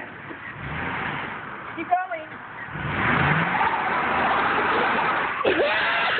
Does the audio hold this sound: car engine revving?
yes